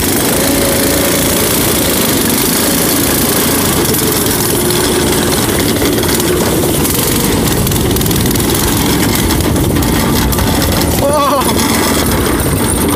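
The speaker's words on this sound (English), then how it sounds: "I just straight piped my go-kart, and we're about to hear how it sounds when you rev it" A straight-piped go-kart engine running and revving hard, loud and raw with a constant buzzing roar, close to the microphone throughout.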